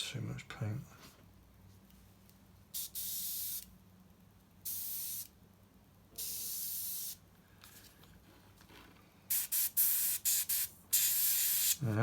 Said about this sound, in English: Now we've suddenly gone on to a single action airbrush there.